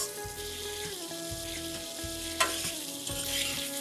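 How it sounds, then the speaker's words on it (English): Mushroom curry masala in mustard oil bubbling and sizzling in a pan over a moderate flame, a steady close simmer with soft periodic stirring scrapes and a faint background hum. "Allow this to simmer on moderate flame till the oil, in this case the mustard oil, releases the sides of the pan."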